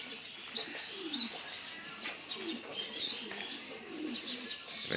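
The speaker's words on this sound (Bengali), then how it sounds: "ওই যে কবুতর এখন বাস্কেটিং হচ্ছে" Racing pigeons being basketed coo softly in low, repeated burbles, with sharper chirps and light rustling nearby, all fairly quiet.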